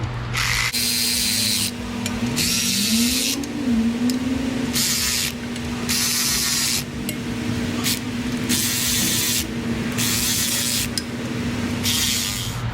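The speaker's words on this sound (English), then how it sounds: "I'm gonna run the rest of these fasteners down until they seat." A power tool drives fasteners down on a Subaru Impreza WRX, running in loud repeated bursts with short pauses between them, steady and close throughout.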